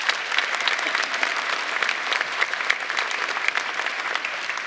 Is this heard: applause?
yes